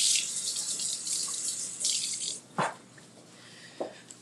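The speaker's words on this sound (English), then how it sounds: "Wash my hands again." Running water flows from a kitchen tap as hands are washed, a steady hiss with brief breaks, then a couple of splashy clunks near the sink before it eases.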